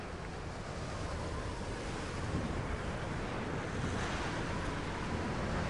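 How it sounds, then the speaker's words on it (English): Strong wind gusting across an exposed outdoor area in the Tomb Raider: Definitive Edition game, a steady broadband roar with a faint surf-like wash underneath, loud and continuous with no break. "Very windy here."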